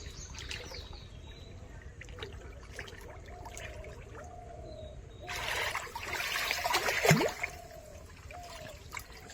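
Wading into cold river water in the Sundarbans brings faint trickling and splashing that swells into a louder churning slosh partway through, with quiet ambient background and no clear talk.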